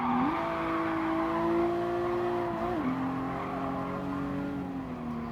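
A Toyota race car on the Nordschleife in GT Sport holds a loud, steady engine note, dips sharply through a quick gear change, then drones on at high revs with faint tyre squeal.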